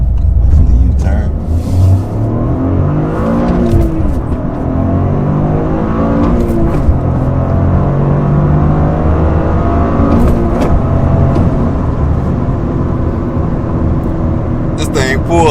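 A Toyota GR Corolla's three-cylinder engine revs and pulls hard under acceleration, a loud rising drone heard from inside the car, with a person talking over it throughout.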